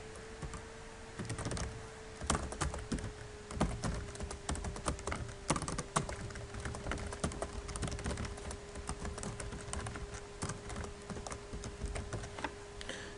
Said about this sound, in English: Type it again.